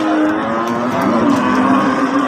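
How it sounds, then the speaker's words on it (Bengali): Friesian cows at a busy cattle market low and moo in a loud, continuous, overlapping chorus with no pauses, close by and without any talk. "দেখতে পাচ্ছেন প্রচুর গরু উঠছে"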